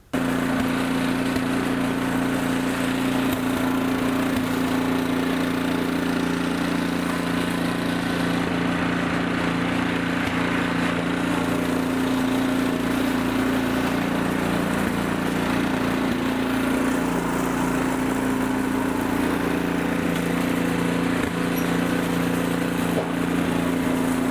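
An Ariens snowblower engine runs steadily at close range, a continuous loud droning hum with no pauses and no voices.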